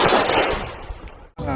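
A toy gun fires a loud burst of rapid, crackling electronic gunfire, then cuts off briefly before a short tonal tail.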